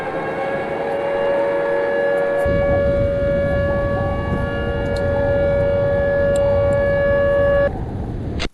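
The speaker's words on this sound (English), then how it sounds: "the siren doesn't let this one go" A loud, sustained siren in Minecraft wails on a steady pitch alone for several seconds, with a low rumble joining partway through before it cuts off.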